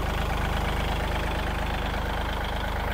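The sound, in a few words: Kubota L3608 tractor engine idling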